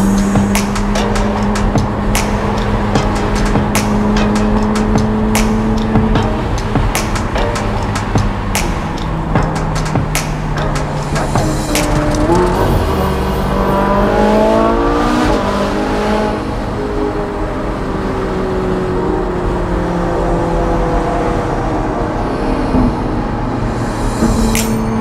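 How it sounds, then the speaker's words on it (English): A convoy of Ferrari supercars drives in display formation behind an 812 GTS on a bumpy village road, with loud engine drone, shifting revs and gear changes, and sharp pops and clicks throughout. "we're just driving here now, just put bumpy road on, behind an 812 GTS"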